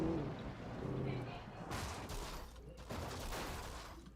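Gunfire from a weapon in the video game Alan Wake comes as a couple of broad, booming bursts about a second apart, mixed under a voice talking.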